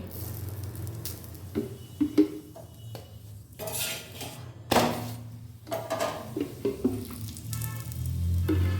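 Paneer paratha cooking on a pan as refined oil is spread over it, with soft sizzling and intermittent clinks and scrapes of a utensil against the pan, close by, no voices.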